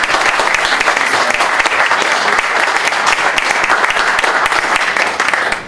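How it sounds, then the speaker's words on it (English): Audience at a town board meeting giving a round of applause: loud, dense, continuous clapping that fills the room and holds steady before fading at the end. "So if you join me in a round of applause."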